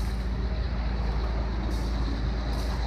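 Refurbished MAN M2000 6-cube concrete mixer truck running steadily nearby, with a constant low diesel rumble and no talk.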